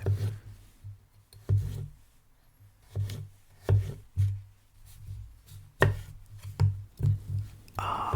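A knife chops potatoes steadily on a cutting board, irregular sharp thuds, close and fairly quiet, with no talking.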